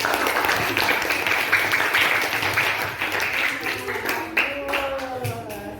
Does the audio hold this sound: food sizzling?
no